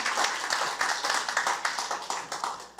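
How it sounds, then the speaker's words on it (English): A small audience claps after a podcast masterclass presentation, a sparse, uneven patter of separate hand claps, each distinct, rising and fading in loose bursts. "Also your signal to clap."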